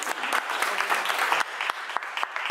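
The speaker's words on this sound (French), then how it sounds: "puis je pense qu'on peut s'applaudir" Applause from a French-speaking audience at an event announcing a month of universal accessibility, a brisk patter of many hands with a few sharper claps standing out, moderately loud and close.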